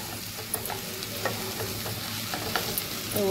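Mixed vegetables sizzle steadily in a pan as tomatoes are added, a constant frying hiss with occasional light clinks and scrapes of stirring, no voices.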